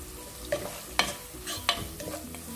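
Chopped onion and green chillies fry in a pan while a spoon stirs them, giving a soft sizzle with a few scraping strokes, close but fairly quiet.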